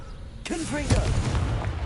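A Confringo explosive spell cast in Hogwarts Legacy bursts with a boom and rumbling blast, close and loud, while a voice speaks over it.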